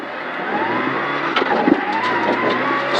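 A Renault Clio RC5 rally car corners hard on a tarmac stage of the Ronde du Jura, its engine howling loudly up close as the tires squeal and skid briefly through the bend.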